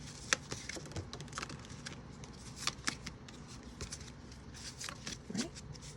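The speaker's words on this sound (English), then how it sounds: "So I'll keep doing some shuffling." A tarot divination deck is shuffled by hand, quiet papery riffles and soft card clicks in short irregular bursts, faint and close with no talking.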